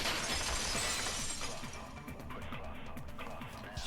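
Vase shattering in the video game Danganronpa 2, a bright burst of breaking glass-like debris at the start that tails off under ongoing game sounds.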